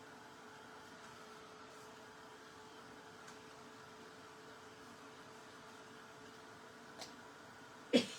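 Steady low whir of a dryer blowing over a craft spinner, faint and even throughout, ending with a couple of small knocks.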